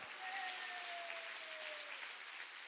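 A congregation at a Korean church summer mountain revival meeting claps, a faint, even patter of many hands with a thin tone sliding through it.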